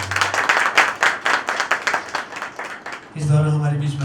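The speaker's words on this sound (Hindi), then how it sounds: "थोड़ी सी तालियां और होनी चाहिए।" Clapping from an audience at a Hindi music tribute evening, a patter of hands mixed with background voices, ending as music with a sustained tone comes in.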